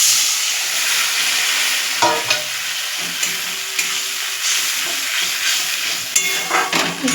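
Ginger-cumin paste with white sesame, poppy seed and chili sizzles and hisses steadily in a pan, with occasional scraping stirs and clacks close by.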